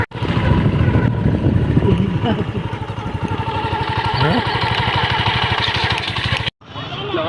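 Motorbike ride to a market, its engine running steadily and loudly close by for most of the stretch, with a brief cut near the end before the motor resumes.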